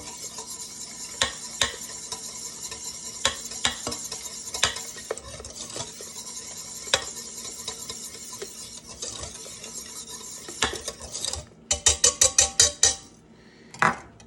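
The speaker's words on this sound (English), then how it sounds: "And you want to get ready to whisk quickly, just in case it's still warm." An egg is whisked into whoopie pie batter in a bowl with brisk, rhythmic metallic clicking and scraping close by, ending with a burst of loud, sharp taps of the whisk against the bowl.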